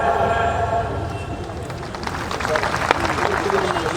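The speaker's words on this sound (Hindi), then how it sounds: "इनका तालियों से स्वागत है" Applause from an audience at a tribal education and rights council gathering welcoming a visiting guest: broad, steady clapping with crowd noise and some talk underneath, moderately loud throughout.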